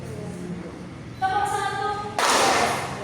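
Classroom group hand-clapping to a counted pattern led by a teacher: a voice calls out first, then a loud, dense burst of claps breaks in near the end.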